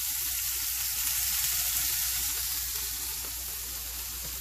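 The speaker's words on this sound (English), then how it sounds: "That's that chicken breast sizzling up in that black skillet." Chicken breast sizzles loudly and continuously in a black skillet, a dense, steady frying hiss close up with no talking.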